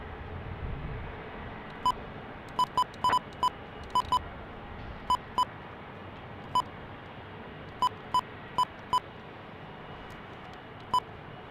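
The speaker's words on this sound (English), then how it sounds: "So that's the beeping you hear is my scanner." Radio scanner beeping during planespotting at Salt Lake: short sharp electronic beeps, singly and in quick pairs, spaced irregularly over a steady background hiss.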